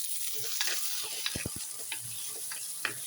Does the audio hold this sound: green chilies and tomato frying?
yes